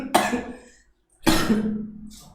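A person gives two close, forceful coughs, each a rough burst followed by a short pause.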